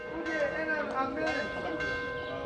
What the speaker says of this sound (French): les cloches de la cathédrale n'ont jamais cessé de sonner le dimanche